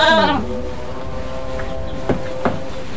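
Goats kept as livestock bleat loudly and close at the start in one wavering cry, followed by a couple of short, fainter bleats later over a quiet background.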